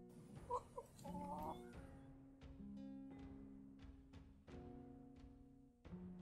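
Rooster clucking in a short series of close, distinct clucks and throaty calls, with brief pauses between bursts and a quiet background.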